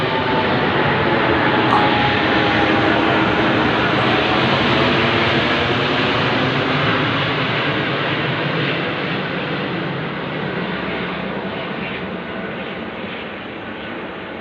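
Airplanes flying overhead, a broad steady roar that stays loud and continuous throughout, slowly fading a little toward the end, with no talk.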